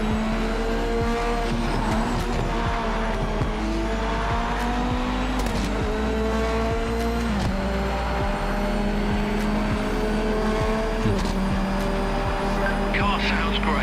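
A race car engine in a VR iRacing game drones continuously, its pitch stepping up and down through gear changes with occasional tire squeal, while someone talks over it.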